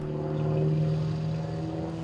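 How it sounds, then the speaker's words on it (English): An airplane engine drones loudly and continuously as the aircraft flies a descending spiral for a high-G ride. The steady tone holds without a break, close and alone. "use gravity to help accelerate the airplane in a descending spiral"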